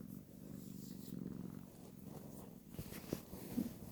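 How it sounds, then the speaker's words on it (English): A male cat purrs softly and continuously close by, a low rhythmic rumble with faint rustling near the end and no voices. "I touch him and he purrs."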